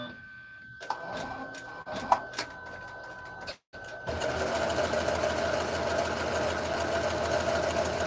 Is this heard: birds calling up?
no